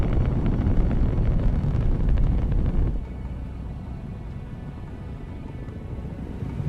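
Cassini spacecraft rocket launch bound for Saturn, a loud, dense broadband roar that stays heavy for about three seconds and then drops to a steadier, lower rumble, with no voices.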